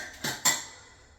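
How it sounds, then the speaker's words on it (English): Metal Allen wrench picked up during installation of a Moen shower trim kit: two quick, close metallic clinks about a quarter second apart, ringing briefly and fading, with no talk. "Now we'll take the"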